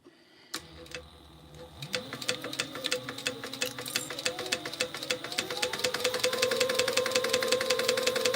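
A sewing machine stitches pocket pieces onto a crossbody bag, running in a steady rapid mechanical rhythm that starts up after a moment and grows slightly louder and faster, close and alone.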